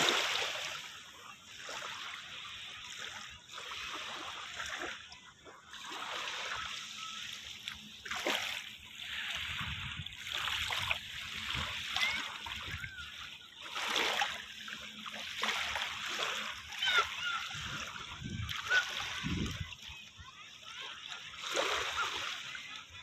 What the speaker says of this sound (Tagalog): Ayan ang dagat.